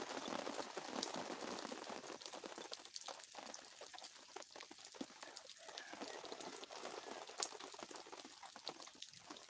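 Steady patter of water drips and light rain during a thunderstorm, a continuous wet crackle with scattered sharper drops, fairly close and with no voices.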